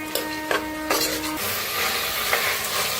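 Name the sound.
roasting peanuts, moth beans and potatoes in oil in a pan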